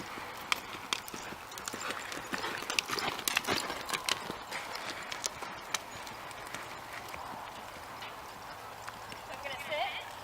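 A horse lopes off after backing up and turning, its hoofbeats thudding in a quick repeating rhythm that fades somewhat toward the end, with outdoor ambience behind.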